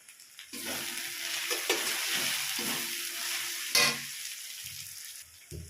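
Chicken fries in a pan with cumin and dried chili powder, giving a close, steady sizzle. Repeated scraping stir strokes cut through it, ending with a sharp clatter.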